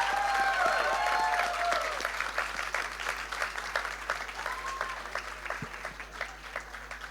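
A crowd breaks into applause that starts full and gradually thins into scattered, more distinct claps, with a brief whistle-like tone early on.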